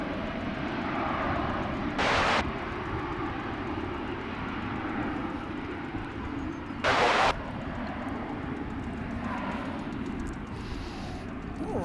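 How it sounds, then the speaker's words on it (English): An Airbus A321 departs at Dallas/Fort Worth Airport with a sustained, steady engine roar throughout, broken by two short louder bursts of broadband noise, heard from a distance with no talk. "San Francisco, Airbus A321."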